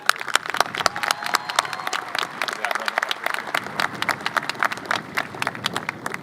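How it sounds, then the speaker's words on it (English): At a high school graduation ceremony, a crowd applauds a volunteer family; steady, crisp clapping from many hands with some murmuring voices underneath, continuing throughout. "Let's give them a round of applause"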